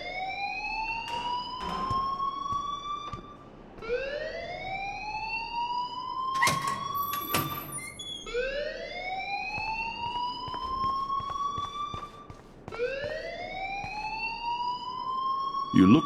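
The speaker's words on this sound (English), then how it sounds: "please turn off that alarm since that's your job" A fire alarm sounding in a school in the video game Life is Strange, a loud, repeated rising siren-like whoop cycling about every four seconds, with voices talking over it.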